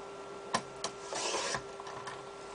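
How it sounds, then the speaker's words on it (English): A paper cutter trims excess white card in a quiet room: two sharp close clicks, then a short sliding rasp of the blade, followed by a few faint taps. "just using my paper cutter. I'm just going to go around and trim off all the excess white card"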